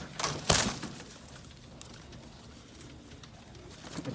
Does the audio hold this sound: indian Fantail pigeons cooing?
yes